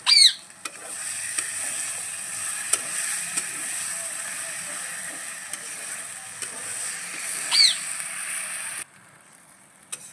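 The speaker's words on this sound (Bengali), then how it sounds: "এখানে কিন্তু মশলাটা খুব ভালোভাবে কষিয়ে নিয়েছি, আর মশলা দিয়ে কিন্তু তেল ছাড়তে শুরু করেছে।" Spice masala, cooked down with tomato, sizzles in oil in a pan on a clay wood-fired stove, with a steady high hiss and a few sharp scrapes of stirring.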